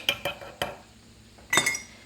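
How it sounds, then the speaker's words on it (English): A spoon stirs homemade glass-cleaner ingredients, including cornstarch, inside a glass jar, giving a handful of sharp, close clinks in an uneven rhythm with a short quiet gap midway and no talking. "I'll go ahead and stir these ingredients up nice here."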